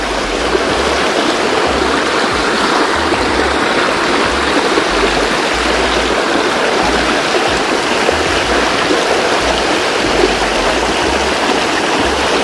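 A backwoods creek rushes in a swirling current, a steady broadband wash of flowing water, loud and close, with no voices over it.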